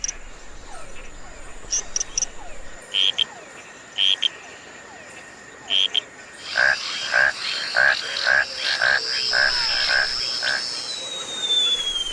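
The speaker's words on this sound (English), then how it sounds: "This noise is made by frogs." Frogs calling back and forth in a humid forest setting, short pulsed croaks repeating in bursts that grow denser and louder in the second half over a constant insect hiss.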